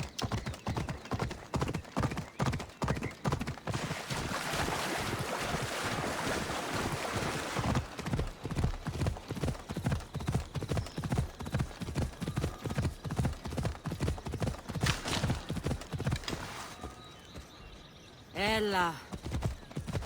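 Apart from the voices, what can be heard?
horse Phobos galloping, from video game Assassin's Creed Odyssey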